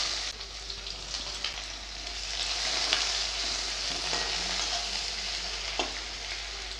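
Chopped onion sizzles steadily in hot oil with whole garam masala and a bay leaf, the base for a home-style muri ghonto. A spoon stirs now and then, and the frying stays close and continuous, with no voices.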